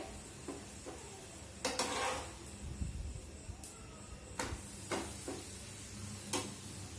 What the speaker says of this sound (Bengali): দেখতেই পাচ্ছ ভালো করে এটা ভেজে নিচ্ছি তেল দিয়ে।